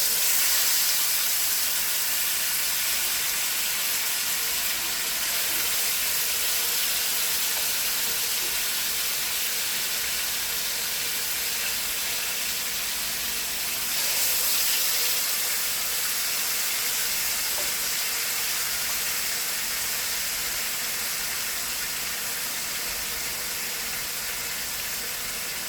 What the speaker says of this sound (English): pan sear it just enough to get some color on it